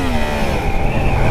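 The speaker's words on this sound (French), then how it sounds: "La sonorité du 4 cylindres avec l'échappement, là je trouve ça pas trop dégueulasse." A Yamaha MT-10 four-cylinder motorcycle with its exhaust, heard from the rider's position: a loud, continuous engine drone with a steady pitch and slight rising tone, wind rush underneath, no talking.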